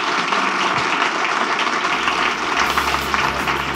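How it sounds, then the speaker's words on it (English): Audience at an IoT business panel applauding the panel, a loud sustained wash of many hands clapping that carries through the whole clip. "Please give a round of applause for our panel."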